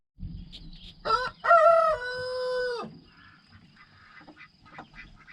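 A rooster crows loudly and close by inside a chicken house, one long drawn-out call. Softer clucking and rustling of hens follows underneath.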